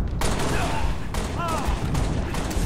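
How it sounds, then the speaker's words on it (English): Rapid gunfire in the video game Halo Reach, a dense, loud, continuous barrage with sharp bursts, while players talk over it. "Oh, I'm missing every shot."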